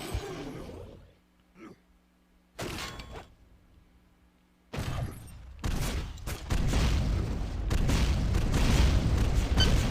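Rocket explosions in a Painkiller video game duel match: a few separate deep booms spaced apart, then a dense run of blasts and rumbling that builds into a loud, sustained roar.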